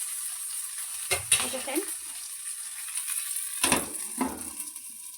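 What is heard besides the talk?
uttapam dosa batter frying in oil in a covered kadai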